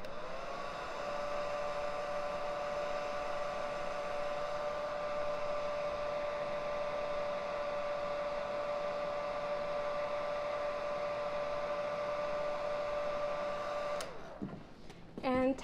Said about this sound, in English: And again with the hairdryer.